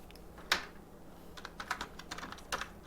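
Keys clatter on a computer keyboard in a short run of quick, uneven taps, close and quiet, with one sharper keystroke near the start.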